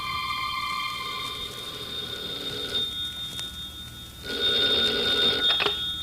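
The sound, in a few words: telephone ringing, radio drama sound effect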